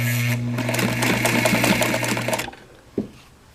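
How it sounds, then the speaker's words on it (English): A sewing machine runs steadily at speed, stitching a dog harness with a rapid mechanical whir, then stops abruptly, followed by a single faint clack. "it's always good to have a really good solid sewing machine that can make repairs to things like that"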